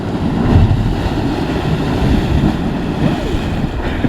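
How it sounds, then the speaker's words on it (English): Ocean waves surge and back up against a Hawaii lava rock coastline, a steady loud wash of churning water with wind rumble across the microphone and no pauses. "It's just like a combination of 2 or 3 big waves and the water backs up."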